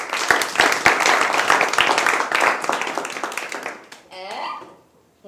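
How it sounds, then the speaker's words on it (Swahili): An audience claps in applause, a cluster of sharp hand claps mixed with someone talking, fading out toward the end. "Mpigeni makofi"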